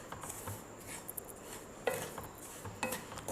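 Semolina and chopped almonds being stirred and roasted in a pan: a spoon scrapes and rubs against the metal in intermittent strokes, with a few sharper clinks, close and moderately loud, with no voices.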